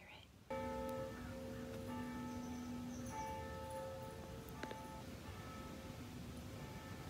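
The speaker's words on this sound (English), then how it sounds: "The bells are going off right now, guys. Listen to those bells." Church bells ring out with sustained, overlapping tones and occasional fresh strikes, heard from a distance over a soft background hiss.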